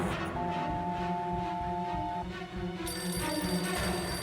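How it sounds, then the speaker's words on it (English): A telephone rings in a Nancy Drew detective video game, a steady electronic ring tone with a second brighter ring layered in partway through, continuous and clear over a dense game background. "The phone is ringing"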